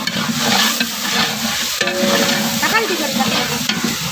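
Chilli powder, Kashmiri and red chilli and garam masala frying in oil for a large batch of chicken biryani, a loud, dense sizzle with stirring scrapes throughout, close and unbroken.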